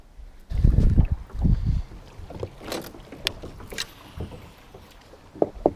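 Oars work a rowboat on a lake in Finland, with several uneven splashing, dipping strokes and creaks, the first strokes loudest, then lighter knocks and drips in open outdoor quiet.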